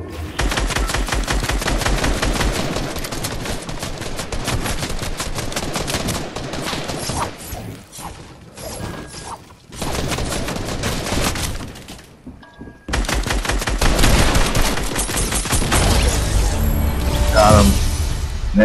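Heavy gunfire in Fortnite, long stretches of rapid automatic shots broken by short lulls, then a loud sustained burst near the end, with no talk over it.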